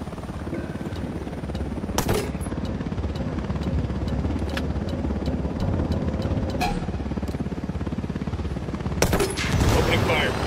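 Gunfire aimed at a helicopter in the video game Ghost Recon Wildlands: loud bursts of shooting over a constant rotor roar, with sharp cracks near the start and the end.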